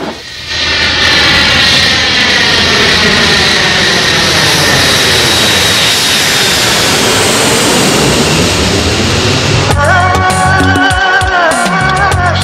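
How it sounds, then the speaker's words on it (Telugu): An airplane arriving with its engines roaring loud and close, a sustained, powerful drone that holds steady before shifting in tone near the end. "ఫ్లైట్ వచ్చింది కాబట్టి తప్పించుకున్నావు."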